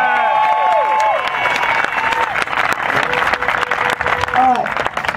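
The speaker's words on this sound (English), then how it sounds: "First, one more big round of applause for all these pilots." A crowd at an RC helicopter competition applauds and cheers for the pilots, loud sustained clapping mixed with whoops and shouts, while an amplified voice and brief whistles cut through the noise.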